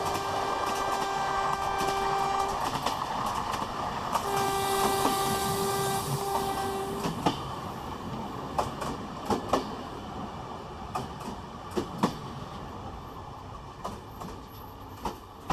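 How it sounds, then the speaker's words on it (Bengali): A night passenger train running on the route out of Kolkata, heard as a close, continuous rumble with sustained tonal hums at first, then clickety-clack wheel beats over rail joints at a steady rhythm. "রাতে ট্রেন কলকাতা থেকে প্রায় 8 ঘন্টার দূরত্ব অতিক্রম করে আমাদের পৌঁছে দেয় গন্তব্য স্টেশনে।"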